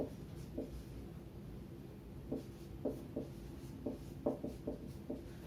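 Chalk or a marker writing on a board in a classroom, with short scratchy strokes in small clusters, faint and close, over a low background hum with no talking.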